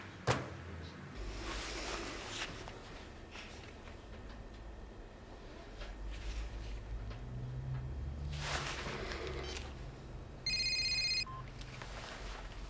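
A phone rings in a doctors' clinic, sounding as one short electronic ringtone burst near the end after a long stretch of quiet room ambience with faint knocks and movement.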